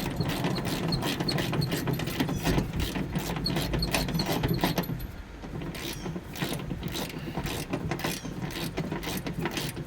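Lock nuts being tightened on a mower deck pulley of a John Deere LA/D/E 100 series lawn tractor, heard as continuous close ratcheting and mechanical clicking with a short dip midway and no talk.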